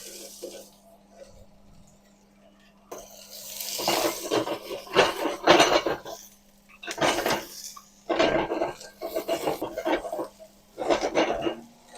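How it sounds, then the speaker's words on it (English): Carrots are stirred in a pan with salt and pepper, with metallic scraping and clanking strokes in uneven bursts close up after a quiet opening. "Right now I'm just working in the carrots in the pan."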